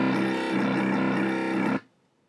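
A growl bass synth from NI Massive, played with the macro pushed up, gives a dense, distorted, buzzing tone. It holds for nearly two seconds, then cuts off abruptly into silence.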